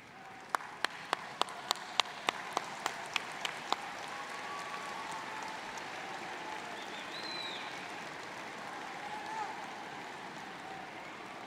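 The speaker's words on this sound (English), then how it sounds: "give them a rousing round of applause for the love and support that have made this day possible" Crowd applause at a university undergraduate commencement ceremony for graduates' families and friends, a broad steady roar of clapping throughout, with several sharp individual claps standing out near the start and faint voices underneath.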